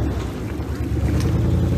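A Mexican Red Cross boat moves through deep floodwater while carrying a person, its motor giving a steady, rough drone mixed with wind and water noise, close by, with no talk.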